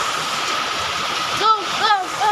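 Rainwater overflows and splashes in a constant rushing wash, with a voice speaking briefly over the noise toward the end.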